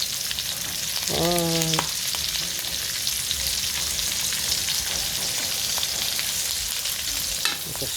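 Garlic and onion sautéing in a pan for ginataan, a loud, continuous close sizzle with a brief tonal clink and stirring noises, one short spoken word.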